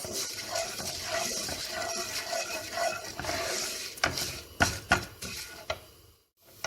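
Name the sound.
vermicelli roasting in olive oil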